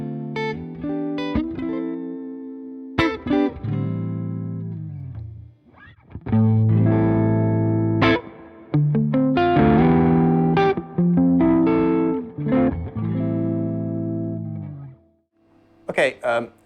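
An electric guitar plays through a Cornerstone Antique V3 pedal set to its clean sound, with chords and single-note phrases ringing clearly and fairly loud, broken by brief pauses, and no one talking over them.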